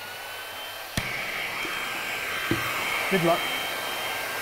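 A trusty heat gun blows on heat shrink tubing with a steady, airy hiss, punctuated by a couple of faint clicks and knocks, while a brief spoken remark sits over the blowing.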